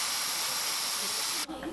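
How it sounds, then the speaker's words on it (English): Black spray paint hisses steadily from an aerosol can onto a fishing lure, a close, loud continuous spray for about a second and a half before cutting off abruptly into quieter room sound. "I'm gonna spray black back over it"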